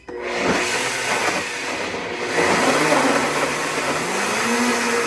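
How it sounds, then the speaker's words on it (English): A blender blending mango lassi runs steadily and loudly throughout, its motor whirring with a coarse churning texture as the contents swirl. "you're gonna put it in your blender, and then you're gonna let that blend up"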